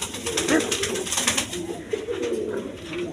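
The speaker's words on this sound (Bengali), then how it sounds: "এক পেয়ার ইন্ডিয়ান কাগজি কবুতর আছে" A pair of Indian Kagzi pigeons coo softly and repeatedly at close range, low murmuring calls over light background noise.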